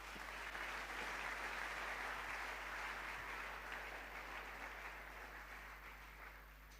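A church congregation applauds in praise during a French-language service, a dense, sustained wash of clapping from many hands in a large room that fades slightly toward the end, with no voices over it.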